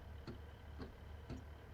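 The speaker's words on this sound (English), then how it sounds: "Did I put the wiper on?" A train windscreen wiper in Train Sim World 4 on the Berninalinie with a Class 150 Pacer, three faint, evenly spaced soft ticks over a steady low cab rumble.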